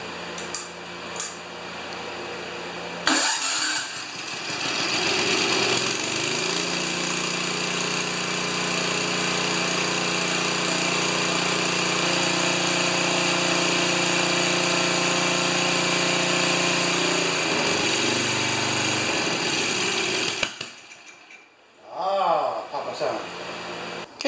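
John Deere TRS 24 inch snowblower engine catching and running steadily at a loud, even drone for most of the stretch, with faint talk at the start and end.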